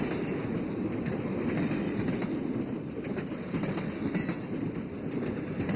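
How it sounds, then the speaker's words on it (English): A freight train passes close by, a loud continuous rumble with clickety-clack of wheels over joints and a thin high squeal running through it. "Freight train."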